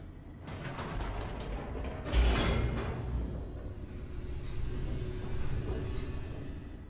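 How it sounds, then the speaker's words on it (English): Elevator descending in the video game The Stanley Parable: a continuous mechanical rumble with creaking and ratcheting clanks, rising into a louder grinding surge partway through, no voices. "The elevator raced downward, plummeting towards an unknown fate."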